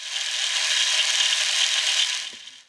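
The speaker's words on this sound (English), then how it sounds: "And also mechanical noise from the motor." A steady, hissing simulated tape machine motor whir from a lo-fi tape effect plugin runs evenly for over two seconds, then tapers off with a faint low thump near the end.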